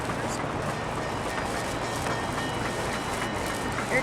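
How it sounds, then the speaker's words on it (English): At the Georgetown Loop Railroad, a locomotive switching tracks gives off a steady broadband rumble and rail noise, continuous and moderately loud, with no distinct clicks. "I'm gonna record the locomotive switching train tracks."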